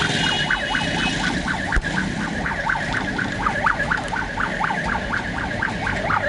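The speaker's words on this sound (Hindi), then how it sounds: "पुलिस का सायरन जारी है, आप सुन रहे हैं, पुलिस दबा के सायरन दे रही है" A police siren wails steadily in a fast, repeating up-and-down cycle, loud and close amid street traffic noise, with no voices over it.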